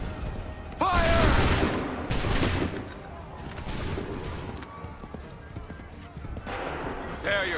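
Musket volleys crack out in a Bunker Hill battle in Assassin's Creed 3, loud ragged bursts of gunfire rolling in waves, with shouted orders heard in between.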